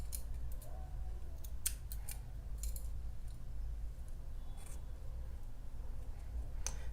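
Scissors snip through yarn while finishing a crochet granny square poncho: a few crisp, separate cuts close by, with no talking.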